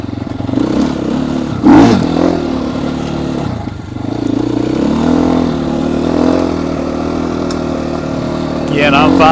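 The engine of a Trailmaster TM 38E off-road vehicle runs near and loud, a steady idle that rises and falls slightly, with someone talking over it throughout.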